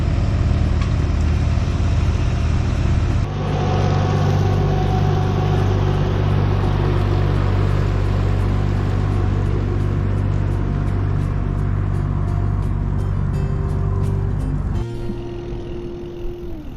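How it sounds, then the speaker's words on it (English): Small orchard tractors working among rows of apple trees in a valley, a steady low engine hum and drone that shifts in level partway through, then drops away near the end. "You can hear the hum of tractors all around these apple orchards"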